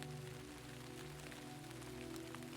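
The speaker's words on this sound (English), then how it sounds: "It rained the day we began." Rain falling steadily on a surface, a soft continuous hiss with fine patter, faint and even throughout, layered with a low sustained background hum.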